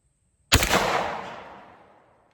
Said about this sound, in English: Here comes the redemption shot on the Remington sure shots.